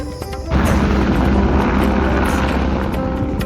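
A helicopter on the Amarnath Yatra pilgrimage route roars in a loud, continuous broadband rumble that cuts in sharply after a brief lull and holds steady, close and overpowering.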